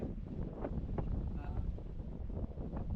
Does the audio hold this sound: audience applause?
no